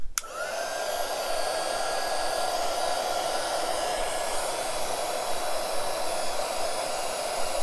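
A hair dryer blows steadily and close for the whole stretch, drying a thin coat of gesso on a card, with a sharp click at the start as it switches on and a constant whirring roar throughout.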